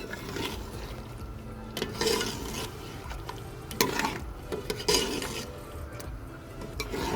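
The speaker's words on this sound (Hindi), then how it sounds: "अब इसको अच्छे से मिक्स करेंगे।" Mutton paya with half a teaspoon of crushed cumin is mixed in a pot, with uneven scraping and sloshing stirring strokes over a soft background sizzle, close and moderately loud, no talk.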